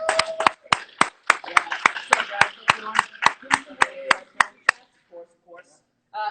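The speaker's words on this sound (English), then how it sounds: "Everybody, round of applause for him." A small group at a youth night live service claps for a guest being welcomed in: a string of sharp, evenly spaced hand claps, fairly close, for about five seconds, then a voice starts talking as the clapping stops.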